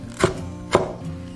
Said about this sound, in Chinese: 大蒜拍碎，切成蒜末